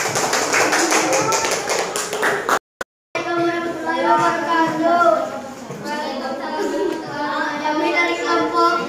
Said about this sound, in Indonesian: tepuk tangan untuk kelompok keluar keren